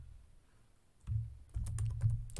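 Close keyboard typing while renaming an item in FreeCAD CAD software: a quiet pause, then a burst of rapid key clicks from about one second on, continuing in a steady clatter to the end with no talking.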